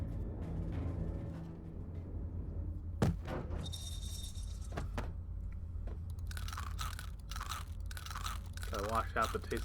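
Crunching bites of a chicken being eaten in the video game Infinifactory, a few sharp crunches followed by a cluster of chewing sounds over a quiet background, with a voice talking.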